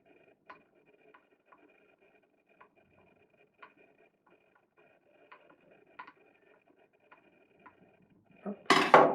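A cross-head screwdriver unscrews the safety screw on an Oase Filtomatic pond filter, giving faint, scattered small clicks and ticks, then a louder rustling clatter at the very end.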